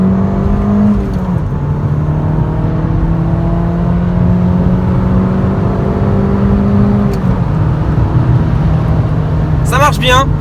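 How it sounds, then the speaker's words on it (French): Abarth 595 car accelerating hard in sport mode, a loud steady engine drone from inside the cabin with pitch climbing through gears, a voice breaking in near the end. "On va faire une petite accélération du diable."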